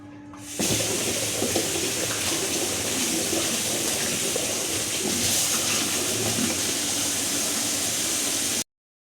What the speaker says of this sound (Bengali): তো চলো তোমাদের সাথে কথা বলতে বলতে এবার আমি মশলার ডিবেগুলো ধুয়ে নিই।